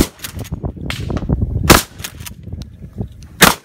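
Shotgun blasts during tactical shotgun training on a range, several sharp close reports spaced irregularly with clattering handling noises between them.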